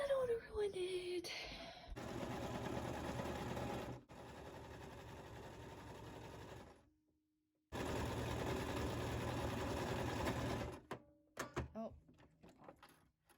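A sewing machine stitches a thrifted shirt in two steady runs of a few seconds each, separated by a short pause, and is followed by quieter clicks and handling thumps as the fabric is adjusted.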